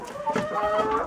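Hens cluck inside a warm chicken coop in hard winter frost, a short burst of close, overlapping throaty clucks and calls.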